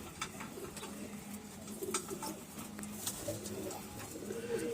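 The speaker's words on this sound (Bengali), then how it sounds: "আর এই যে দেখুন পায়রাগুলো খাচ্ছে" Pigeons in a loft feeding, with soft cooing and scattered pecking and fluttering sounds, faint and close, continuous over a low background with no speech.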